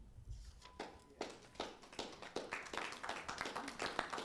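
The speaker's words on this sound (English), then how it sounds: "we don't allow applause in the chambers" A small group applauds in a city council chamber after a public speaker finishes, with scattered, fairly faint claps heard from across the room.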